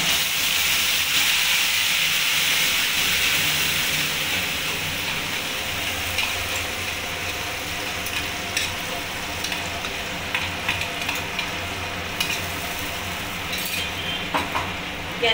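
Ground spice paste from the mixer sizzles and hisses in a pan of rui fish kalia, loud and steady at first, then settling into a softer fry with intermittent scraping of stirring.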